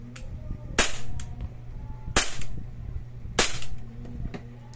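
An airsoft Glock 18C gas pistol fires three sharp, separate shots about a second apart, each a loud, close crack over a low background hum.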